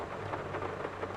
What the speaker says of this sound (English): At least it's raining for it.